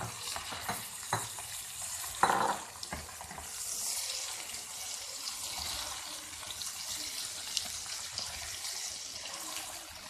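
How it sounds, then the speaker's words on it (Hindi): Chicken fries in a pan with ginger garlic paste over golden-fried onions, a steady close hiss and sizzle with a few stirring scrapes and knocks early on. "अब हम इसमें अदरक लहसुन का पेस्ट डालेंगे और चिकन डाल के थोड़ा सा फ्राई करेंगे इसे।"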